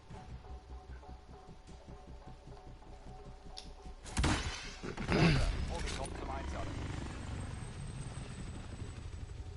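A helicopter in a video game approaches with a low rhythmic rotor chop, swelling into a louder whooshing roar midway, while people talk over it.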